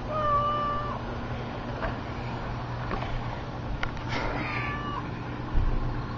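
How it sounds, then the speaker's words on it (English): A mother cat meows a few times, thin drawn-out cries over a steady low background hum, moderately close and alone without talk. "There's the mama cat."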